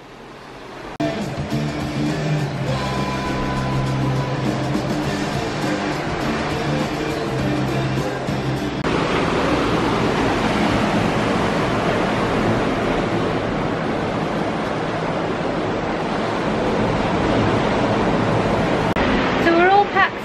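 Sea waves wash in at a Barcelona beach, a soft, continuous rushing surf that swells louder toward the end, heard from indoors beneath people talking.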